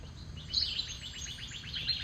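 Small birds chirp at a backyard feeder on a morning, a quick run of faint, evenly spaced tweets over a soft outdoor hush.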